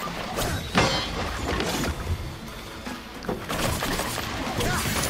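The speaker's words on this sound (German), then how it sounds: "Achtung, die schießen nur auf uns." Enemies fire at the player in a Prince of Persia The Lost Crown battle, a dense run of rapid impacts and mechanical bursts, loud and close, with sharp hits clustering near the start and again toward the end.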